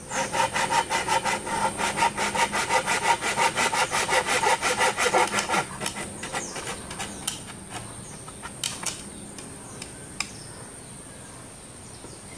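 A slightly rusty hand saw cuts through wood while building legs for a piece of furniture. About six seconds of fast, rhythmic rasping strokes are followed by slower, scattered scrapes and taps.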